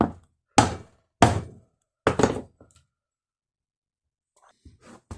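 Three loud, solid metallic knocks spaced about half a second apart, then a cluster of quicker blows, followed by faint scraping: a mower wheel bearing being hammered in with a socket.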